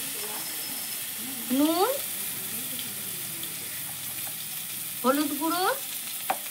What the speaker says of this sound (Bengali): এইবার আমি সর্ষে ফুলটা ভেজে নেব